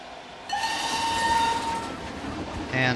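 A train in the video game Planet Coaster 2, a steady rolling rumble with a sustained horn-like whistle tone through most of the clip, fairly loud and near, ending with a brief renewed surge.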